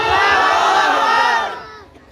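A large crowd at an Islamic religious gathering shouts a takbir chant in unison, loud and sustained, then the roar fades away.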